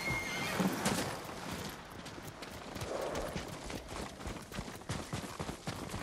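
A horse whinnies briefly among hoofbeats clip-clopping, followed by soft rustling and scattered thumps of movement nearby, in the video game Ghost of Tsushima.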